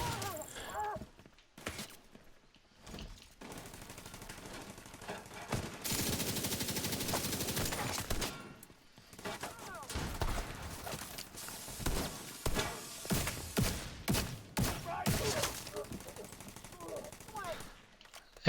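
Rapid bursts of gunfire in the video game Division 2, loud and dense, with sustained automatic fire mixed with single shots and brief pauses between volleys.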